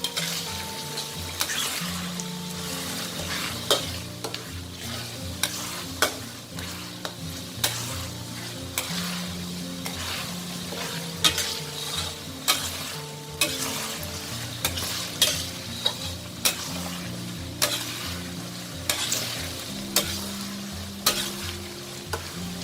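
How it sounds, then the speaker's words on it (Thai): Garlic fries in bubbling oil with a steady, close sizzle and crackle while a utensil stirs it, giving regular scraping knocks against the pan throughout. "เมื่อเขาเริ่มเดือดแบบนี้นะคะเราก็คนค่ะ"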